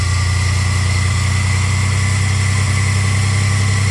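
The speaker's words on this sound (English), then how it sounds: "Engine needs some heat in it to run on this bad stuff." A car engine idles steadily on old, stale gasoline, giving a loud, even low rumble with constant vibration and no pauses or voices.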